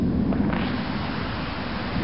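Thunder rumbles low and heavy during a severe thunderstorm in Gastonia, North Carolina, with a brief swell of wind and rain noise over a continuous dull roar.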